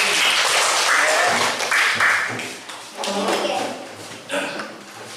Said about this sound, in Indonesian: Tepuk tangan buat Mbak Selvi